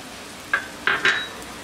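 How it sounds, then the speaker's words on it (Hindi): Chopped cauliflower, tondli, potatoes and peas are added to a pan of spiced masala for Maharashtrian masale bhaat, bringing a faint sizzle and three sharp metallic clinks of a utensil against the pan, close and quick. "अभी हम इसमें डालेंगे सारी कटी हुई सब्जियां, जैसे कि कॉलीफ्लावर"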